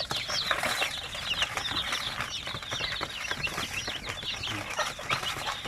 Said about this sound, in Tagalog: ito po yung mga sisiw natin, no, na galing sa incubator